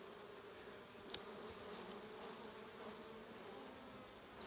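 A soft, continuous swarm of honeybees buzzing at a mini-plus mating nuc fills the space, steady and fairly quiet, with one brief click near the start.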